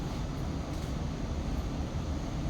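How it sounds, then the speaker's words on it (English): A train that has just pulled into Mittenwald station in the Bavarian Alps. It makes a continuous, loud broadband rumble and hiss with no breaks and no voices. "Okay, so the train has just arrived."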